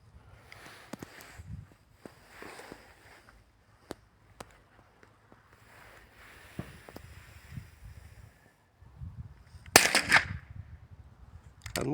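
Sharp, isolated reports from a Hatsan Escort .22 LR shotgun at an outdoor shooting range, a few scattered cracks spread across the stretch with quiet gaps and low background noise between them, and one louder, more prominent burst near the end.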